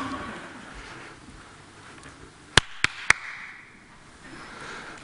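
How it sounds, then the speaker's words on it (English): Three sharp hand claps from a presenter during a sound-location demonstration, spaced roughly a quarter second apart, standing out crisply against a quiet room. "you have to point where you hear me clapping"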